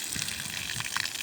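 Water pushed up by a motor pump gushes steadily from a pipe at a hillside tank, a loud, continuous rushing splash heard close with no talking.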